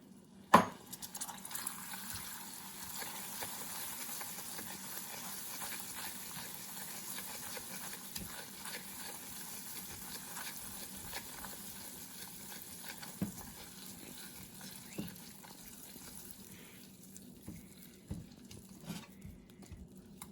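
Two tablespoons of butter go into hot amber caramel taken off the heat, giving a steady, quiet hiss and bubbling sizzle that lasts throughout with faint clinks of stirring.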